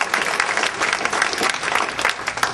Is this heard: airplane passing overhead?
no